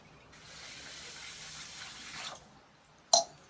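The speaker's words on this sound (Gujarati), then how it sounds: "આમાં હવે એટલી મોરસ નાખવાની છે ને 1 ગ્લાસ પાણી નાખવાનું છે" A glass of water pours steadily onto sugar in a pot for homemade papaya tutti frutti syrup, running for about two seconds before stopping, followed by a single sharp clink.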